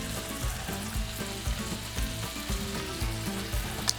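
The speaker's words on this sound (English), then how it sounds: "I get in these phases and I deep fry a lot of fish, but I love pan frying" Steady sizzling of pike fish pan frying in hot oil fills the clip, with faint low thumps recurring underneath.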